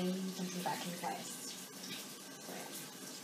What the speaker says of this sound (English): Now I'm going to use the hot water now.